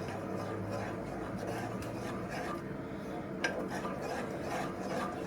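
Spoon scraping and stirring in a bowl as Teesside honey with a heather taste is mixed into burger sauce, a soft continuous rubbing with one small clink partway through.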